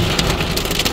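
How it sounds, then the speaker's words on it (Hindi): Hail patters densely and steadily on a car, a loud crackling spray of many small impacts with a few sharper hits, heard from inside the vehicle. "ओले पड़ रहे हैं, पहली बार नहीं, मतलब काफी सालों बाद।"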